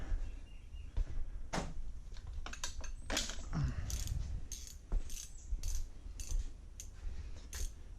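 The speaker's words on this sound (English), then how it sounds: "This Cobalt ratchet wrench set is not holding up very well." A Kobalt ratchet wrench works an 18 mm bolt on a BMW F10 M5 brake caliper, producing scattered close metallic clicks and clatters with irregular spacing over faint background noise, no talking.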